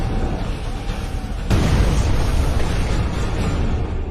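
Cannons fire against massive city walls in an Ottoman Empire drama, one sudden deep boom erupting midway and rolling on into a sustained rumble over the earlier background.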